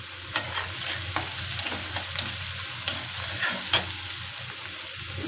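Prawns and brinjal frying in a pan as chili powder and salt go in, a steady sizzle running under irregular scrapes and clinks of stirring, close and fairly loud with no talking.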